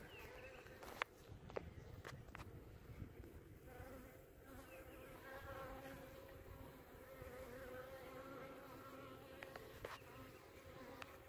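Bees buzz softly and continuously, close and faint, with occasional footsteps and light rustling in the background.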